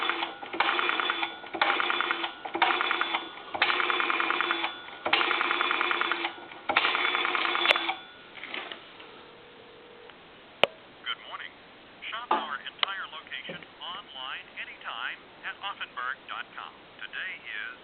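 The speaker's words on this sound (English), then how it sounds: "Give you some dial tone there. We'll go ahead and dial like a time and temp number." A steady dial tone from a payphone line, then a run of touch-tone beeps as digits are dialed, followed by a recorded time-and-temperature voice speaking over the line.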